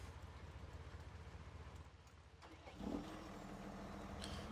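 A tractor engine in Farming Simulator 17 cranks and catches near the midpoint, rising from a low rumble into a steady idle, faint overall with no talk.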